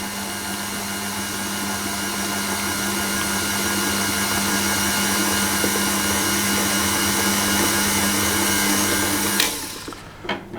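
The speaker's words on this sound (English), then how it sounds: "we're just going to beat that until it's combined" An electric mixer beats a cheesecake mixture with a steady, loud, continuous whir that runs unbroken before cutting off abruptly at the end with a few faint knocks.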